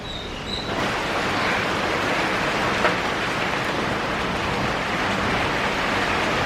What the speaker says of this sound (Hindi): तो यहाँ पे थोड़ी सी आंधी और बारिश आई